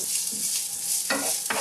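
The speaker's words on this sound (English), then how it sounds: "now I'm going to put the onion in here" Half an onion sizzles and crackles in hot olive oil in a pan, a steady close frying hiss with a few louder bursts as it is stirred.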